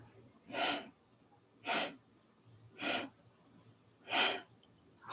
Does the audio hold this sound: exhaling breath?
yes